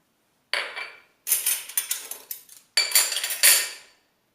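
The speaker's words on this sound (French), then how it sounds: "Donc je vais commencer par mélanger les jaunes d'œufs" Egg yolks, butter and sugar being mixed in a bowl, three bursts of rapid clinking and scraping of a utensil against the bowl, close and loud with short pauses between.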